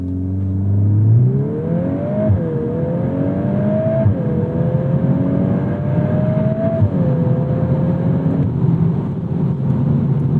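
A Volkswagen Golf R MK8 or Acura Integra Type S engine pulling hard in sport mode and climbing in pitch toward redline, dropping briefly at each quick gear change before rising again, loud and continuous.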